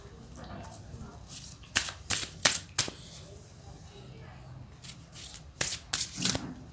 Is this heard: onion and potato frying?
no